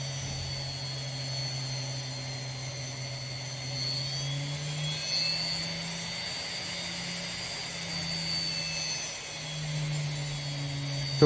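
A small DC motor whines continuously, its pitch rising and falling as the speed changes, steady and close with no talking.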